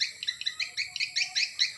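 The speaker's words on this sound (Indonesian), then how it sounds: "ada pula burung walit yang berlegar-legar di lubang masuk burung" Several swiftlets circle the entrance of a swiftlet nest house, giving a rapid series of sharp, high chirping calls in quick bursts, close and fairly clear over a faint low background.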